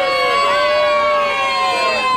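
Children at a birthday party cheer and scream loudly together for Becky, a sustained, high-pitched chorus of shrill voices that fills the whole moment.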